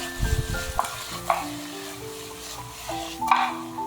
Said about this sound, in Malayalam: ഞാനിവിടെ ജിഞ്ചർ ഗാർലിക് പേസ്റ്റ് ആഡ് ചെയ്തിട്ട് ജസ്റ്റ് ഒന്ന് എല്ലായിടത്തേക്കും ആക്കി കൊടുക്കുകയാണ്